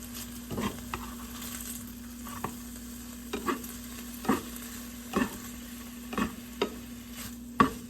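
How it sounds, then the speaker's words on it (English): Pork slices frying in a pan for Japanese ginger pork (shouga-yaki), with a steady soft sizzle and a low hum, broken by occasional stirring scrapes and clinks that come more often toward the end. "Cook pork until a little bit good color."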